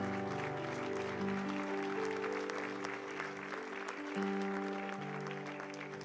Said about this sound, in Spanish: Dale una ofrenda de palmas a nuestro Dios, hermano.